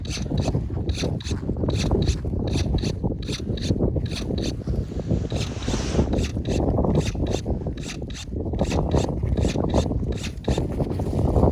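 A weak pruning machine cuts an olive branch with a continuous rough rasping, grinding buzz, steady and close throughout with brief pulsing breaks.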